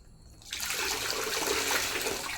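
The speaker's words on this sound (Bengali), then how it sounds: "কি সুন্দর করে জল দিচ্ছে।" Water is poured over a feverish person's head, a sudden steady splashing gush that starts after a brief quiet and continues close and moderately loud.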